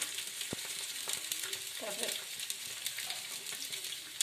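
Cumin and chili sizzle and crackle in hot oil in a pan with a constant frying hiss, a few sharp pops, and a faint voice in the background.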